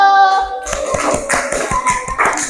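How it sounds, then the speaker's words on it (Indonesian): A class audience claps after a group presentation, a series of close, loud hand claps following a brief tonal sound at the start. "Oke, beri tepuk tangan, beri aplaus dulu."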